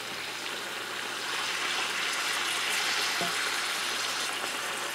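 Quail and bacon browning in a pan beside a pot coming to the boil, giving a steady, moderately loud sizzle and hiss with no talk.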